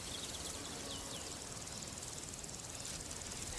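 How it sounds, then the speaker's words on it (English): Insects chirping in the British countryside, a faint continuous shimmer of high trilling carried over a soft outdoor hiss, with occasional brief high bird notes. "Sounds of insects,"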